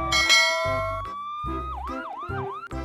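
A toy police motorcycle's electronic siren plays up close, with a high wailing tone and a run of rapid up-and-down yelps over a bright, chiming toy jingle.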